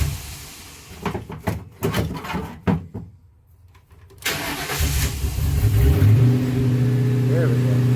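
A Ford Crown Victoria engine cranks in several uneven bursts, falls quiet for a moment, then catches and settles into a steady running idle, heard up close.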